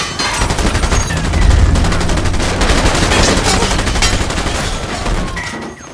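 Rapid machine gun fire in a film scene aboard a boat, dense sustained bursts with heavy low booms, loud and continuous throughout.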